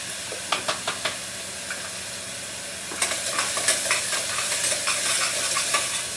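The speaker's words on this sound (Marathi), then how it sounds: "कांदा आणि टमाटा परतून घेते व्यवस्थित" Onion and tomato sizzle steadily in hot oil in a pressure cooker, with a spoon knocking and scraping the pot in intermittent strokes, close and fairly loud.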